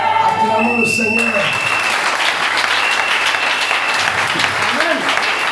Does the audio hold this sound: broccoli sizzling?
no